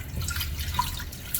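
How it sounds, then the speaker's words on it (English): Vinegar, maple syrup and water mixture poured into a pot for homemade ketchup, a soft steady liquid trickle with faint drips and splashes, fairly quiet and continuous with no talk. "pour all of that in the pot"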